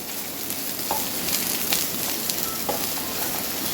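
Soya chunks fry in coconut oil, a steady soft sizzle with a few brief clicks and stirring sounds, no talking.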